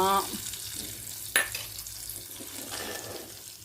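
Hot curry leaf tempering is poured into a pot of Tirunelveli pidi karanai masiyal, giving a sharp splash followed by a soft, steady sizzle and bubbling close by, with no voices.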